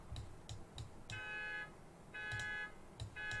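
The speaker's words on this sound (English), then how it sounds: "like a car alarm." A repeating electronic alarm, heard as a car alarm, sounds in a game scene: sustained high pulsing tones alternate with short beeps in a steady cycle under faint background noise, with no speech.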